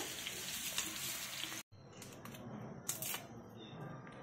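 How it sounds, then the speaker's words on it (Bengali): Potatoes frying in hot oil in a pan give a close, continuous sizzle, cut briefly by a short gap, then back with scattered light clicks and crackles. "আলুগুলো লাল লাল করে কষা হয়ে গেছে"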